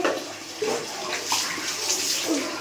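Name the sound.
water poured over body while bathing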